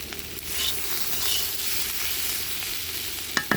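Malabar spinach fruit bhaji sizzling in a pan, a steady close frying hiss with soft stirring scrapes and a couple of sharp clicks near the end.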